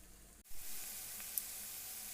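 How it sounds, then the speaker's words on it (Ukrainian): Sliced onion frying in oil in a pan gives a soft, steady sizzle after a brief clatter at the start, quiet and close with no voices. "Обсмажуємо цибулю на олії до прозорості"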